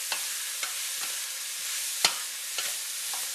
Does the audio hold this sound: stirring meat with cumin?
yes